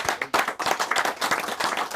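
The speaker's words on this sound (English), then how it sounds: "I think that deserves a round of applause" An audience gives a burst of applause, many hands clapping quickly and unevenly, close and lively for a couple of seconds.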